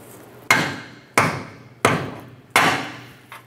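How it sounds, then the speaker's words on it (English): Four sharp, loud hammer blows strike the bottom of a lower control arm bushing bolt on a 2007-2012 Nissan Altima, spaced roughly evenly and each ringing out briefly, with a fainter fifth tap at the end. "I'm gonna smack the bottom with a hammer."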